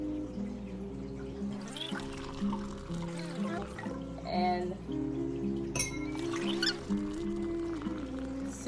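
Homemade kombucha is opened and poured into glasses, with liquid splashing and glass clinking over several seconds, quiet and close, while a voice speaks briefly.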